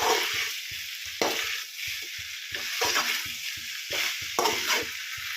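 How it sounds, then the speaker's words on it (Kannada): Gobi manchurian being stirred on high flame in an aluminium kadai: a steady frying sizzle broken by repeated scraping and clanking strokes of the spoon against the pan, close and fairly loud with no talk. "ಹಿಂಗೆ ಹೈ ಫ್ಲೇಮ್ ಇಟ್ಟು ಎಲ್ಲ ಚಲೋ ಮಿಕ್ಸ್ ಮಾಡ್ಕೋಬೇಕು ನೋಡಿರಿ"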